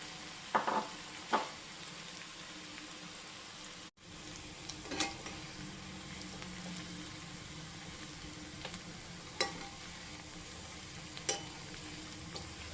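Cauliflower florets deep-frying in hot oil in batches give a steady, moderate bubbling sizzle, with a few sharper pops and clinks scattered through and a brief dropout near the middle.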